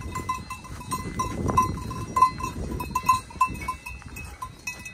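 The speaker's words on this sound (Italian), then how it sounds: "con le mucche al pascolo, i campanacci che suonano" Cowbells on cows grazing in an alpine meadow in Val Gardena near Passo Sella clank and jingle continuously at close to middle distance, overlapping in an irregular rhythm with no talk.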